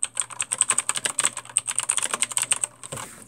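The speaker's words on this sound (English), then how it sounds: "if you guys wanna hear my keyboard" A computer keyboard being typed on up close, with quick, steady clacking keystrokes over a few seconds and no talking.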